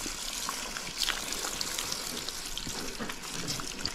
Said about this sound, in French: Et je rince.